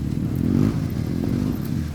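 Motorcycle engine on a slippery dirt track with wooden obstacles and sharp turns, a steady low rumble with slight clatter running continuously, close by and fairly loud.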